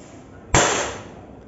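A single sharp crack from a W119 CO2 air pistol firing a 4.5 mm steel BB, close and loud, with a brief decaying tail over a low background hiss.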